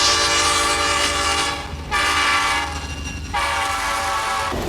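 A heavy diesel freight locomotive rumbles past loudly, its horn blaring in long sustained blasts that break off briefly and resume over the steady roar.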